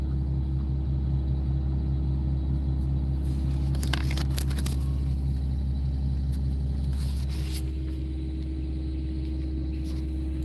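A semi truck backs up and picks up a trailer, giving a steady heavy engine rumble with a few sharp metallic clanks and creaks midway through, close and loud without any speech.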